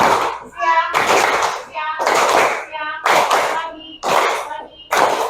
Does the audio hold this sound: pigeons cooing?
no